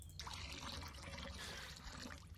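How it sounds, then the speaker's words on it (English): Water poured onto a plant in the game Wurm Unlimited, a steady soft trickle and splash running the whole time at low level, with no talk. "I watered the plant."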